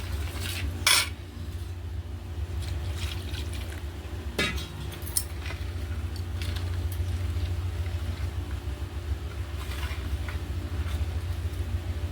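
A spoon stirs spiced masala for raw mango pickle in a metal pot, with soft scraping under a low hum and a few sharp, isolated clinks of metal against the vessel.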